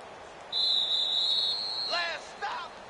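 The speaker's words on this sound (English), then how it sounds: "Now with the play clock about to expire, we get a whistle and a timeout." A referee's whistle blows one long sustained shrill blast at a football game as the play clock nears expiry, followed by crowd noise and voices talking.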